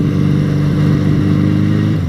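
A heavily rebuilt motorcycle engine runs on a test run with a loud, close, steady throb and evenly pulsing exhaust beats for a couple of seconds, with no talk.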